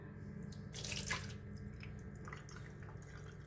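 Water drains and drips quietly nearby, with a faint steady trickle and a brief louder splashing gush partway through, then soft scattered drips.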